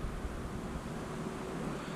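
Steady wind buffets the open air on the Deschutes River while a fishing boat drifts, a continuous low rushing roar with no pauses, fairly loud and close to the microphone.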